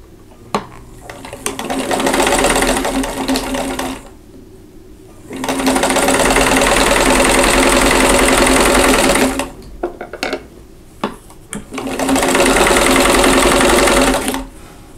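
A sewing machine stitches a quilt square in three sustained runs of steady, close mechanical whirring, separated by short pauses with small clicks and handling noises.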